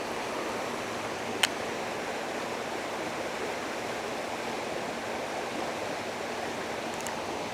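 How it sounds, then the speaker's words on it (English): A creek flows steadily with a continuous rushing, hiss-like wash of water, close and even throughout, with one faint brief click. "I'm really shocked that there's still this much flow in this creek."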